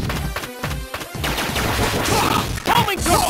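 A Homing Torpedo weapon fires in a Mega Man boss-fight remake, a dense, rapid volley of punchy gunfire-like shots mixed with other game sounds.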